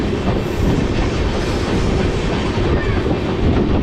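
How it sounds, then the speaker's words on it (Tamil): A Chennai to Calicut passenger train runs steadily along the tracks, a constant loud rumble with rhythmic clattering of wheels, heard from close by without pause. "ட்ரெயினோட ஸ்பீடு உண்மையிலேயே ரொம்ப சூப்பராகவே போயிட்டுருக்கு"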